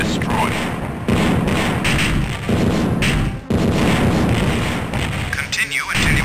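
Laser fire in the TIE Fighter space combat game blasts cargo containers, heavy repeated booms and crackling bursts in a dense, loud barrage with brief gaps between volleys, and a voice speaking briefly over it.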